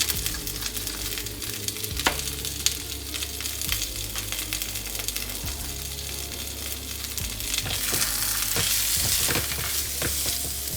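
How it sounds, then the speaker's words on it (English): Sliced garlic, asparagus and bell pepper with a little salt sizzle in a hot pan, a steady loud frying hiss with occasional stirring clatters, growing slightly fuller toward the end, with no talking. "I sliced up 1 piece of garlic, and I can see it starting to sizzle"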